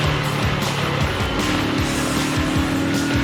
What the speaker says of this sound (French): c'est histoire de faire un tour en moto